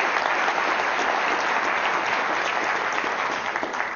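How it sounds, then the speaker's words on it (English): Steady, dense applause from a theatre audience at a stage hypnosis show as volunteers walk up onto the stage, a continuous wash of many hands clapping with no talk over it. "give them a round of applause as they come up"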